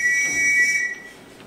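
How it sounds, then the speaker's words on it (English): A shrill, sustained whistle blown to summon someone aboard a ship's household in a stage musical, loud and close, holding one steady tone for under a second before cutting off. "I can't bear being whistled for."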